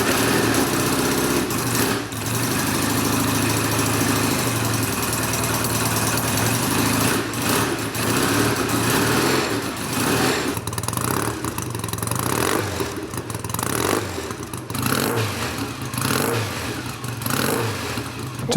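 Small engine revved repeatedly after being dropped to the floor, a loud continuous buzzing roar that rises and falls in bursts, close by with no talking.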